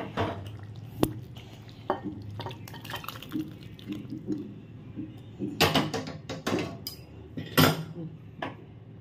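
Chhana kofta curry being poured and scooped into a bowl, with soft liquid drips and scrapes punctuated by several clinks of a metal utensil against dishes, close and fairly quiet.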